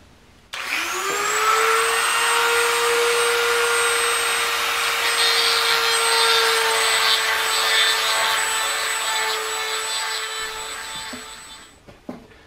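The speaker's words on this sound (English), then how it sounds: "I was just going to take a Dremel and clean these out real good" A Dremel rotary tool whines at a high, steady pitch for about ten seconds as it cleans out trailer parts for a homemade cargo trailer cook table, close and loud, then winds down, with a few small clanks at the end.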